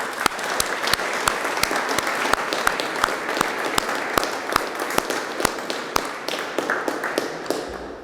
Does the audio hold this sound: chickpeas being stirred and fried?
no